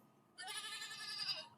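A single goat bleat sound effect from a podcast app, short and wavering, sounding alone and close for about a second after a brief quiet lead-in.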